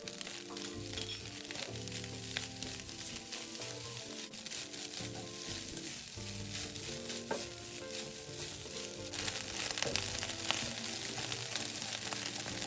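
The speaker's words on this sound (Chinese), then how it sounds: "再一起炒匀。" Rice stir-fried in a hot wok with seasoning, a continuous crackling sizzle with repeated scraping and tossing strokes of the spatula against the pan, fairly close and steady with no talking.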